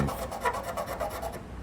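A paint run being sanded out by hand, a quick series of close, soft rasping strokes with sandpaper rubbing back and forth over the surface.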